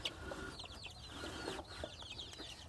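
Chickens inside a wooden crate covered on all four sides cluck softly, with scattered, irregular calls that stay faint and muffled.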